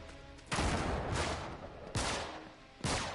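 Bursts of AK rifle fire ring out in the third-person shooter Uncharted 3: Drake's Deception. Three sharp volleys, each with a ringing, echoing tail, are fairly quiet in the mix.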